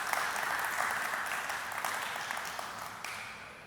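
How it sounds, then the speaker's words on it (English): A conference audience applauds the event organizers, with sustained clapping from a large crowd that tapers off slightly toward the end. "give a big round of applause for the organizers of the conference"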